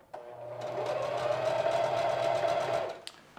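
A sewing machine runs steadily for about three seconds, stitching fabric shorts, with a close, even whirring hum that starts and stops cleanly.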